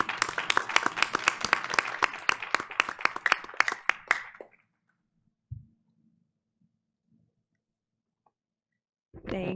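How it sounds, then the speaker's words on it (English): An audience at a school board of education meeting claps in brisk, dense applause for about four seconds, which then cuts off into near silence broken by a faint thump and a few small clicks. "So let's give her a big round of applause."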